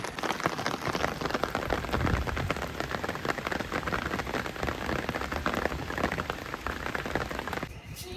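Heavy rain pours steadily throughout, heard from a rooftop, a dense, loud hiss of drops hammering a surface with no pauses.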